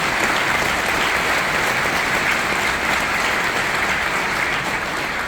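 Audience at an event applauding, a dense, steady wash of clapping that fills the whole stretch, loud and even with no distinct voices standing out.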